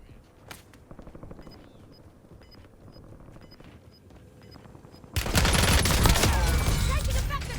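Gunfire in a video game firefight, starting as scattered shots under quiet ambience, then erupting into a loud, dense, sustained burst of rapid automatic fire for the last couple of seconds.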